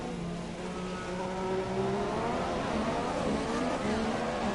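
Formula-style race cars in a video game Formula America race, several engines droning and revving together with rising and falling pitch through a pass on the outside, steady and fairly loud throughout.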